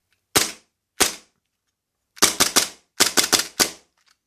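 Maruzen Walther P99 gas blowback airsoft pistol firing sharp, snappy cracks: two single shots, then two quick bursts of three rapid shots each and a final shot, loud and close with silence between.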